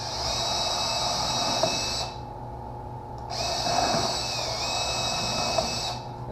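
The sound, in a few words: power drill pre-drilling wood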